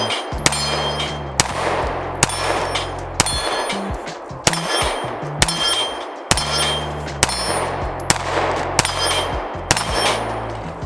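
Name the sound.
gunshots from a BUL Armory SAS II Ultralight pistol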